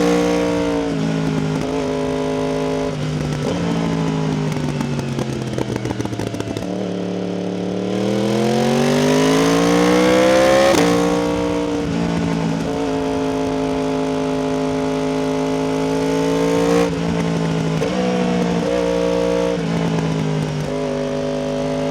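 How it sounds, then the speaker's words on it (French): A Yamaha R1M motorcycle with a crossplane engine revs repeatedly, its loud, rough growl rising and falling in pitch through several sustained throttle blips, heard up close with no talk. "Le bruit d'un moteur crossplane est vraiment incroyable."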